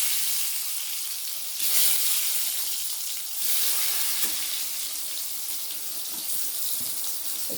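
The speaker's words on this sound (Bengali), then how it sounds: "কড়াই বসিয়ে তেলও গরম হয়ে গেছে। আমি এগুলোকে ভেজে নেব।" Thick-cut aubergine slices fry in hot oil in a wok for a vegetarian dish, giving a steady, fairly loud hiss and sizzle throughout with a few louder surges and no talking.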